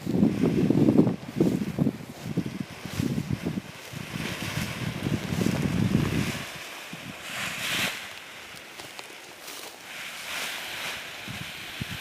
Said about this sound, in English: Wind has changed direction quite a bit.